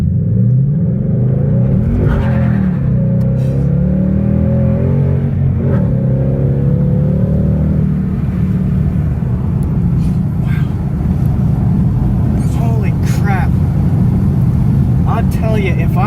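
Ford Mustang pulling hard through the revs with no launch control in comfort mode, a loud close engine roar rising in pitch over several seconds, then steady road rumble and wind.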